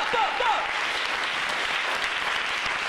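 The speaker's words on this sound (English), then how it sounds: "I'd like to ask that we give the same amount of applause to the brother who's walking out of the room right now, Rasul." Audience applause in a lecture hall after a talk on diva mythologies, continuous clapping at moderate loudness, with a brief whoop or vocal cry near the start over the hands.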